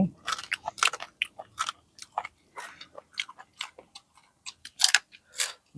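Close-up crunchy chewing of spicy squid salad, a pounded Thai-style dish with fermented fish sauce, heard as irregular wet, crisp bites and mouth sounds with no talk.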